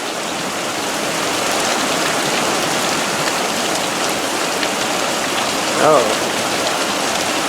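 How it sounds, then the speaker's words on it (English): Steady rain falls hard in Prescott, Arizona, a dense, even hiss of drops on surfaces that fills the whole span close by, with a short voiced exclamation near the end. "And the rain's picking up again."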